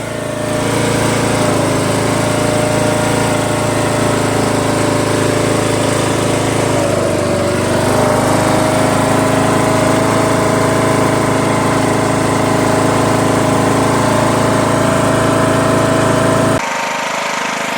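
A Briggs & Stratton 17.5 HP OHV engine on a Craftsman LTS1500 lawn tractor idling high, a loud, steady, close drone with a slight dip in pitch midway, cutting off abruptly near the end.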